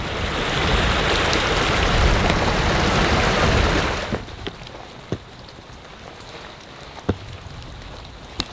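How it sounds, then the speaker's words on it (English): Steady, loud rain pours during a road trip through the Balkans, a dense hiss for about four seconds before easing to lighter rainfall with a few sharp drips and taps close by. "It is raining a bit heavier"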